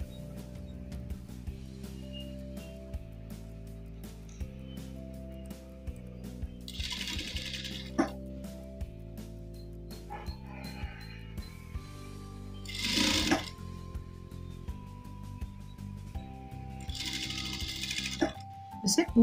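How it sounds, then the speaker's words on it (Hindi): Sewing machine stitching folded fabric for a face mask, a quiet steady mechanical whir running in stretches with small clicks and pauses as the cloth is handled. "दोनों तरफ से थोड़ा फोल्ड करके स्टिचिंग करना पड़ेगा"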